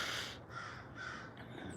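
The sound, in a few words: crow cawing outside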